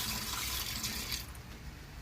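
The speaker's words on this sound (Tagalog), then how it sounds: "Ilagay na po natin ang tubig na pinakuluan." Boiled water pours into a jar holding eggs, a steady rushing splash for about a second before it fades to a softer trickle, close and alone.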